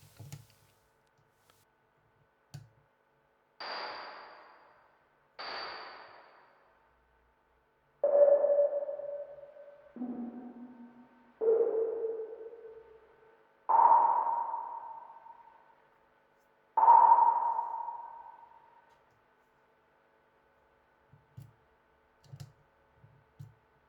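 Sonar pings synthesized by ringing an analog filter such as an AS3320 without an oscillator: six separate pings, each a sharp onset that fades slowly, some falling in pitch, spaced a few seconds apart over quiet, with small knocks before and after.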